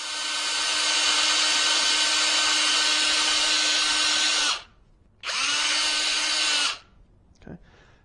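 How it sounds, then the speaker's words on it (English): A power drill with a 3/32 bit boring into a canister for an ROV motor build, one long steady high whine then a short pause and a second shorter burst, close and loud, ending with a faint clatter. "Using the 3/32 drill bit, we will go ahead and drill the canisters both in the top and bottom"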